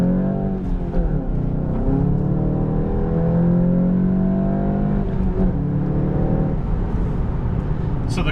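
Driving down a street, a manual 2018 VW Golf GTI SE engine rises and falls through the revs with brief dips between gears, a steady, moderately loud hum heard from inside the car.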